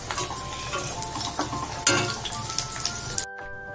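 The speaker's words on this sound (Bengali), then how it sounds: "চলছে পেঁয়াজি ভাজা" Onion fritters (piyaji) frying in hot oil give a steady, dense sizzle with occasional stirring scrapes and utensil clinks, close and fairly loud, stopping abruptly near the end.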